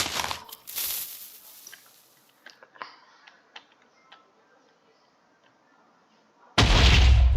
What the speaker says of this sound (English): Oh, it's flying. Wow! Big explosion.